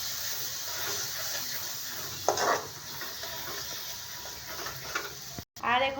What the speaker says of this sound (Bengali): পেঁয়াজ আর মশলাটা পুরো 20-25 মিনিটের মতো এরকম জাস্ট কষাতে হবে